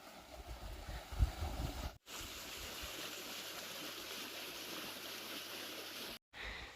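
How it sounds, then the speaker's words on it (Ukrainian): A river flows steadily nearby in a constant broadband rush of water, with a brief low rumble early on. "Красиво тече, тільки вода грязна."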